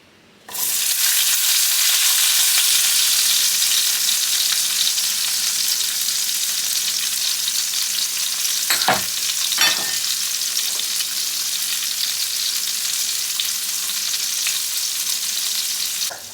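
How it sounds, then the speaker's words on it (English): Onions and sugar fry over medium heat in a pot that has just held browned pork, giving a loud, steady sizzle that runs the whole time, with a couple of spoon scrapes around the middle. "We're gonna cook them for 12 minutes on medium heat, stirring continuously"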